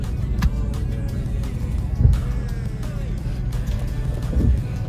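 A car with a faulty transmission creeps along slowly, its engine a low steady rumble with faint road and wind noise, a few knocks and rattles, with people talking over it.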